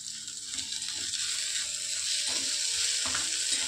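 Grated vegetables and potato sautéing in a pan for spinach soup, a steady soft sizzle with faint rhythmic scraping and clicking from stirring underneath.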